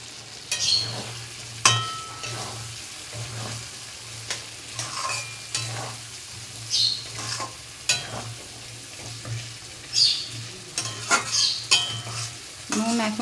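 Potatoes hit hot spiced mustard oil in a pan for fish-head muri ghonto, a soft continuous sizzle broken by repeated scraping and clinking stirs from a utensil, close and moderately quiet.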